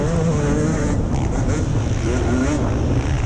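A 2020 KTM SX250 two-stroke dirt bike engine roars loudly and steadily at high revs on a motocross track, a constant buzzing drone with slight pitch shifts.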